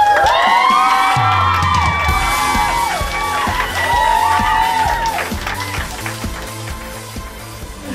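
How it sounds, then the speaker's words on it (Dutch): Fans greet a band backstage with loud cheering, whoops and clapping from an excited young crowd, high shrieks sweeping over a continuous roar that slowly fades while music plays underneath. "Geef ze een groot applaus."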